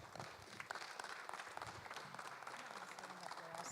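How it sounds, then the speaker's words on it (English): An audience claps for the speaker's mother, Jackie, at a testimony gathering: soft, sustained, crackling applause that stays fairly faint and distant throughout. "Give the loudest clap that you could to my mom, Jackie, please."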